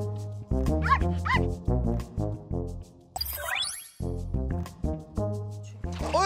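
Dog barking and yipping in an indoor setting, a run of sharp, loud, tonal barks in quick bursts with short gaps, alone and close, with a few whimpering yelps mixed in.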